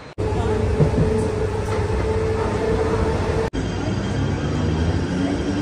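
A train at Khandeshwar railway station gives a loud, steady rumble with rattling wagons throughout, broken by one brief cut partway through.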